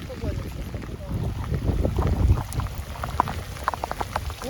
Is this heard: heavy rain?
yes